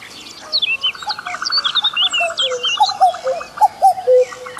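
A common cuckoo call played back through a speaker as a lure outdoors, sounding as repeated loud tonal phrases mixed with other bright, close birdsong throughout.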